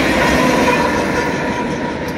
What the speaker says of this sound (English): we got two engines in the rear of this train